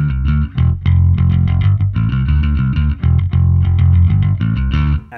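A bass guitar through a distortion pedal set for a subtle crunch plays a driving, rhythmic line, loud and close with a slightly gritty edge.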